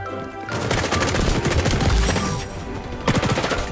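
Rapid automatic P90 gunfire from the XDefiant shooter game, loud sustained bursts rattling almost continuously, with a brief pause before a final burst.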